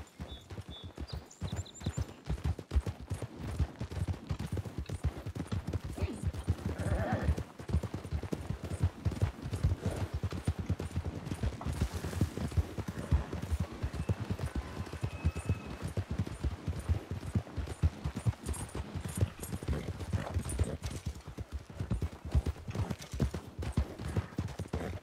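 Horses' hooves clip-clop in the Western role-play game RedM, a continuous rapid patter of galloping hoofbeats with occasional heavier thuds, brief whinny-like sounds and faint distant shots or birdsong in the background.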